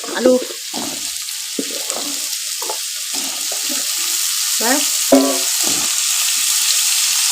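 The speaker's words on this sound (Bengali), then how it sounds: "আলু ভাজাটা ভালো করে ভেজে নেবেন" Potato pieces fry in hot oil for a fish onion kalia, giving a steady close sizzle and crackle with occasional stirring clatter and brief voice sounds underneath.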